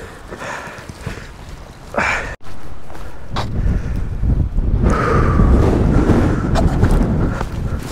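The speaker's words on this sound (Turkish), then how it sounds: "O kadar rüzgarlı ki burası." Strong wind buffeting the microphone during a descent on a mountain, loud rumbling gusts that swell and roar continuously, growing heavier toward the end.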